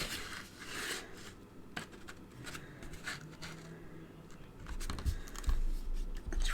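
Scissors snipping paper flowers for a handmade card, a few short close cuts and rustles of paper, quiet and irregular, with a louder handling bump near the end.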